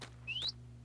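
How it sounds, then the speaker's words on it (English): A parrot in Minecraft gives one short rising whistle-like chirp, brief and fairly clear above a steady low hum. "I thought my parrot was making noises. It probably was."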